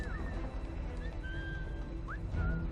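In Assassin's Creed 3, a character gives several short whistles, some flat and some rising, over steady ambient game noise.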